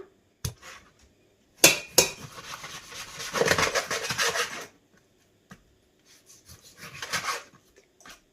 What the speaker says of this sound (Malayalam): ഞാനൊരു കുക്കറിലേക്ക് ഇടാൻ പോവുകയാണ്.